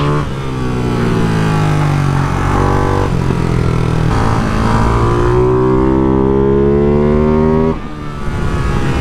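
Ducati Hypermotard 698 Mono single-cylinder motorcycle fitted with an aftermarket exhaust pipe, engine loud and close while riding, revs climbing and falling through gear changes with a brief dip near the end.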